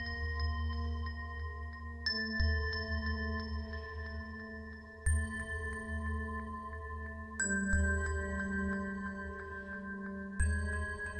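Synthesized chime notes for game-over music, played with randomized velocity through a pad shimmer preset, ring out in five sustained bell-like tones that change pitch every two to three seconds, each struck with a soft attack and a long shimmering tail.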